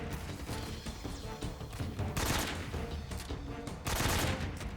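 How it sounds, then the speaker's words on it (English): AK-47 rifle fire in Metal Gear Solid 3, bursts of rapid shots cracking out in two loud clusters over steady background game noise, with no talking. "The AK-47, a famously easy to fire rifle."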